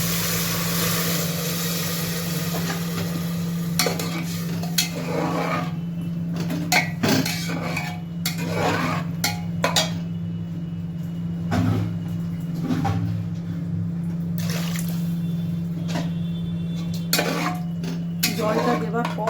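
Masoor dal fries in a pot on the stove while a spoon stirs it, scraping and clinking against the metal in irregular strokes over a steady low hum, close up, with no one talking.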